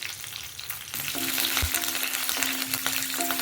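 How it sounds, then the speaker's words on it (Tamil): Lentils frying in a little oil over a low flame for a tempering to go into a coconut and sesame chutney: a soft, steady sizzle that swells after a quiet start, with a faint utensil knock, no voices. "லோ ஃப்ளேமில் பருப்பெல்லாம் வறுபடுற வரைக்கும் வறுப்பது"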